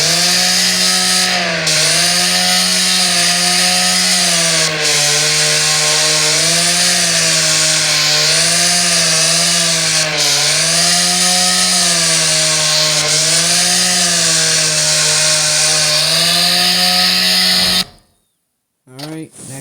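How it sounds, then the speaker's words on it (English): 100cc chainsaw engine from an engine sound app, running loud and continuous with a wavering, slightly surging pitch for about eighteen seconds before cutting off. "100cc chainsaw."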